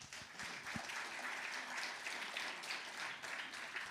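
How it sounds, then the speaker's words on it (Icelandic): Faint, continuous clapping from the audience at a joint candidates' meeting in Rangárþing Eystra, Iceland, heard from a distance with a few sharp claps near the start. "við skulum bara gefa það gott klapp"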